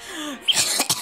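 A short cough or throat clearing from a person playing Paper Mario: Color Splash, a few quick bursts close to the microphone, with no talk.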